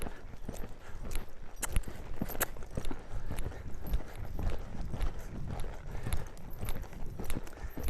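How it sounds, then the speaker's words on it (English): A horse cantering while being ridden and steered off center, a busy run of close hoof strikes with rhythmic thuds and scuffs over a steady background, no clear talking. "even at that canter, look how we have him off center there."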